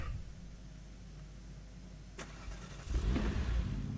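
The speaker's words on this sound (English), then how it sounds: "So let's take this little monster car for a little spin." Monster car engine in the video game Invasion 2037 starting up: a quiet low idle, a sharp click, then the engine catches and swells louder with a low rumble near the end.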